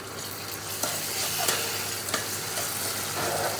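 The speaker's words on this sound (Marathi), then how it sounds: "चला आता इथं कांदा परततोय" Chopped onions sizzle steadily in a hot pan with a little paste, with a few sharp scrapes and clicks of a stirring spoon over the continuous frying hiss, close up and with no talking.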